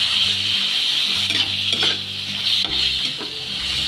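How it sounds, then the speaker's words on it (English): Meat hisses and sizzles in a hot pan with garlic and ginger, a steady loud frying noise broken by scrapes and clinks of a spatula stirring against the metal. "Add the garlic, and the next ginger, then the meat. So add the meat now."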